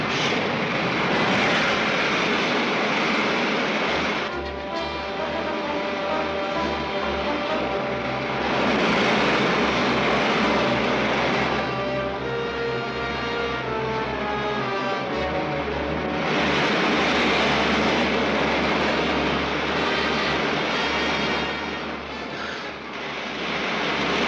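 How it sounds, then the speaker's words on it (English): Spaceship main jets firing in a vintage sci-fi film: a loud, continuous engine roar with a low steady rumble and swelling, pulsing whines, heard alone. "Firing main jets."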